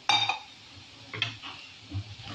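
Onions fry in a pan for Andhra mushroom curry. Sharp clinks of a utensil against the pan and stirring scrapes sound close up over a soft, low sizzle.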